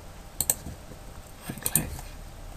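Left and right mouse clicks on a computer mouse during a recoloring job, a few sharp isolated clicks spaced irregularly over faint background noise.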